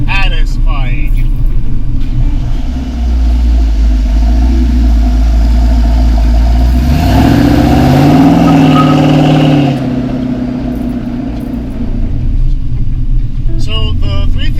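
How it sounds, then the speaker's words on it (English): The 400-horsepower 350 small-block V8 in a '32 Ford restomod, fuel injected with HEI ignition, idles with a steady low rumble and swells briefly in a rising rev before settling back. Someone talks over it. "So the 400 horsepower 350 small block, HEI ignition, it's fuel injected"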